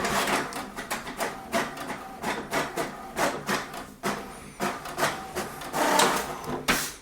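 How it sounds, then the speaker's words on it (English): An HP DeskJet 4255e inkjet printer runs through a page: rhythmic mechanical whirring and rasping passes repeating roughly every half second, steady and close. "Make sure you have some paper in your printer because it will print the password."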